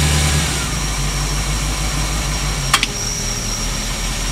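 Engine of an old fishing boat under restoration running steadily at idle, a constant mid-low drone with faint mechanical ticking and a brief sharp click near the end.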